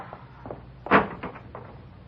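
A street door opens as a radio drama sound effect: a few soft knocks and rattles, then one sharp latch clack, all thin and band-limited like an old broadcast.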